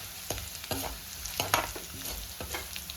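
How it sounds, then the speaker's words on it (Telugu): Fried bitter gourd pieces tumble into a pan of fried onions and curry leaves, making a steady sizzle broken by several sharp scraping stirs and clinks, close and without speech. "ఇప్పుడు మనం ముందుగా వేపుకున్న కాకరకాయలు వేసేసుకోవాలి"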